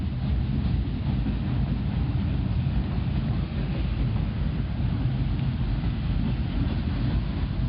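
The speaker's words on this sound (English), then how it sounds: "Oh, the train's almost over." A circus train rolls past at close range, a steady, heavy low rumble of wheels and cars that holds evenly without a break from start to finish.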